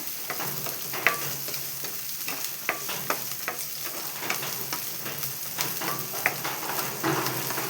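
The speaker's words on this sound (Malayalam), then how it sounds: "സവാളയൊന്ന് വഴന്ന് വരട്ടെ." Onions sautéing in a pan for a Kerala-style mushroom masala, with a steady soft sizzle and a spoon scraping and stirring in repeated strokes, close by and without talk.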